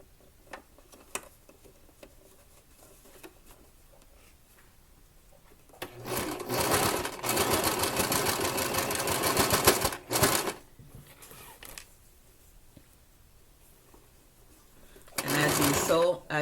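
A sewing machine stitches a dress seam in two steady bursts of rapid mechanical chatter, the first lasting several seconds and the second short, with quiet handling between them.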